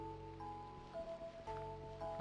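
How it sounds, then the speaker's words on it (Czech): Soft rain falls in Minecraft, a faint, even patter heard under steady background game music. "Aha, venku prší."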